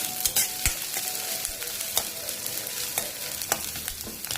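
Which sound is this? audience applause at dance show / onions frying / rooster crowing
onions frying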